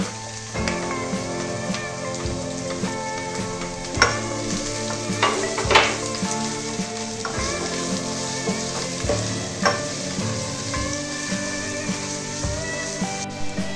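Red onions frying in a pan over moderate heat, a steady, close sizzle with occasional stirring scrapes and pops throughout.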